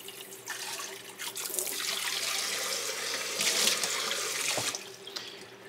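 A tap runs steadily into a sink while a juicer jar is rinsed under it, a continuous close splashing rush that swells and dips as the jar moves through the stream.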